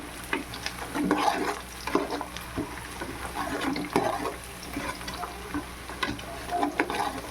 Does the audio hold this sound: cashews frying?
yes